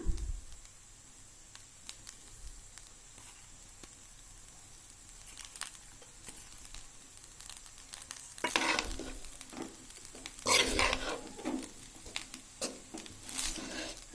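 A spoon stirs carrot and beans fried rice in a pan, soft scraping and rustling with a low sizzle, growing louder and busier toward the end with a few sharp clinks.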